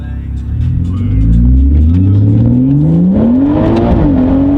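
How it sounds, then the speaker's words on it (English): A BMW 340i sedan launches hard from a dig, its engine roaring up through the revs with tire wheelspin, loud and close for the whole burst. "we're gonna go ahead and try a dig"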